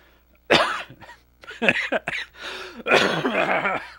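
Several harsh coughs and throat-clearing bursts in quick succession, loud and close, with short pauses between them.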